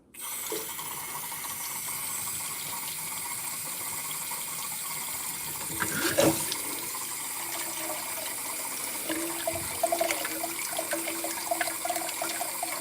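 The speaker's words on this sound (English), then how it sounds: "Alright, got the water going. Let's come over here and fill my dirty sink." Tap water running steadily into a dirty kitchen sink, a constant close hissing splash that continues throughout, with a clunk partway through and the pitch shifting slightly as the sink fills.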